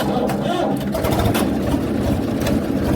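A tractor engine rumbles loud and close at a wheat harvest, holding a steady low churn with no pauses for the full stretch.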